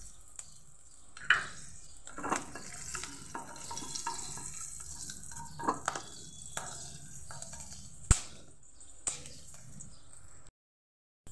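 Five-spice tempering with black cumin, cumin and green chillies crackles faintly in hot oil for a vegetarian eggplant dish, with quiet sizzling, scattered spoon clicks and scrapes, and a sharp tap near the end before sudden silence.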